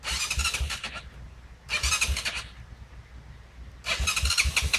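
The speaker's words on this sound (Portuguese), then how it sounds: "Bate aí, bate, pra ver se a moto liga" A dirt bike's engine cranks and catches in bursts on a trail near a waterfall, three loud rough sputtering attempts separated by pauses, close by and outdoors.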